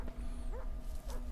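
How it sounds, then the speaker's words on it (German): A dog gives a few faint, distant yips and whimpering barks, two short bursts set against a quiet background hum. "Ich höre einen Hund"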